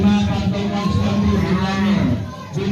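A sacrificial cow rescued from a drainage ditch in Bandar Lampung moos loudly and repeatedly in long, deep bellows, close by, with faint crowd noise around it.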